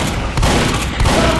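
Dense, loud gunfire in a Team Fortress 2 match, with shotgun blasts mixed into overlapping shots and booms in a continuous barrage over about a second and a half.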